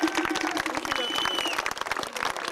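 An audience at a 1991 sea-rescue charity gala evening in Villeneuve-Loubet applauds a guest with dense, continuous clapping. A voice carries faintly over the applause.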